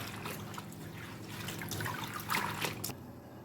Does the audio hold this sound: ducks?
no